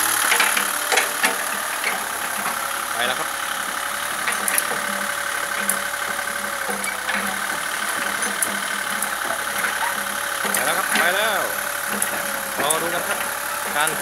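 An excavator's diesel engine runs steadily at idle as the operator shifts its tracks, a continuous mid-loud rumble with occasional clanks and hydraulic whines, with a voice talking over it.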